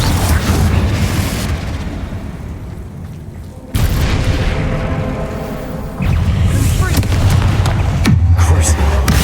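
Confringo fire spell blasts in Hogwarts Legacy: three loud, abrupt booming explosions at intervals, each followed by a long decaying rumble, with combat noise and voices around them.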